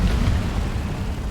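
Incendio fire spell cast in the Hogwarts Legacy video game: a loud, dense whooshing rumble of flame, sustained and steady throughout with a deep low-end roar.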